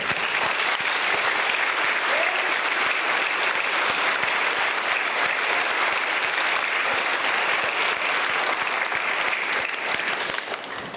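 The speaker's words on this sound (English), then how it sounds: "Let us confirm these candidates and applaud them in a big applause." A church congregation applauds the confirmation candidates during the confirmation service: a dense, steady wash of clapping that holds at full strength for the whole stretch.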